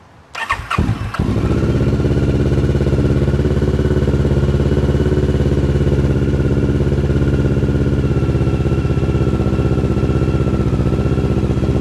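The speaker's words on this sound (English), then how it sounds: "Now let's press the starter button." A motorcycle engine is started with the starter button: a brief crank and catch, then a loud, steady, close idle with a mechanical clatter that runs on alone for about ten seconds.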